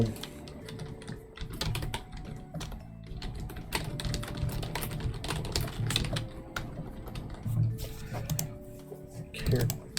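Rapid clacking of a computer keyboard as text is typed, bursts of close, crisp keystrokes with brief pauses, continuing throughout while a person talks over it at times.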